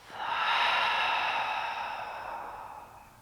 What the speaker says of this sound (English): Give yourself a deep inhale through the nose. Exhale out the mouth.